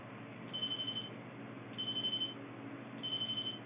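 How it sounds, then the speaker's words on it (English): A telephone rings in three short electronic bursts spaced about a second and a half apart, clear and alone against a faint steady hum, with no voices. "That's the phone ringing."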